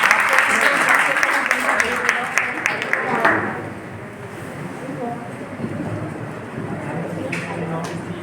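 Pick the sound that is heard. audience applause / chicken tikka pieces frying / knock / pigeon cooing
audience applause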